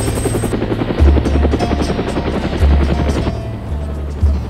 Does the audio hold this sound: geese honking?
no